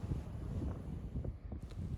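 Wind blowing across coastal dunes beside the ocean makes a steady, low, buffeting rumble against the microphone at fairly low volume, with no voices.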